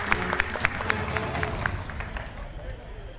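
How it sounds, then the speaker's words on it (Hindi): Party workers at a Samajwadi Party gathering break into a short burst of rhythmic clapping with crowd noise, the claps strongest at first and fading within a few seconds. "तालियां बजाओ अखिलेश भाई के लिए आप लोग।"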